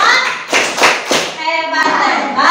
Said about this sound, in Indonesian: Tepuk tangan hebat ya